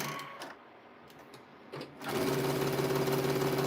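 A sewing machine stitches a wheelchair quilt, its steady mechanical whir and rapid needle rhythm starting after a quieter stretch of handling noises and running loud and continuous close by.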